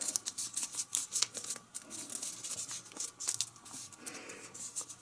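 Paper being folded in half for an origami Easter bunny: repeated soft crinkles, creases and brushing rustles, close and fairly quiet, with no talking.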